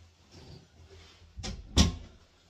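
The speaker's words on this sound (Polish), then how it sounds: "Muszę zamknąć drzwi" Indoor door being shut, with a soft first bump followed by a firmer, louder thud as it closes, close by in a quiet room.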